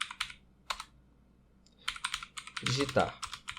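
Typing on a computer keyboard during a Cucumber programming lesson: close, quick bursts of clicky keystrokes in short clusters with pauses between them, and a voice briefly joins near the end.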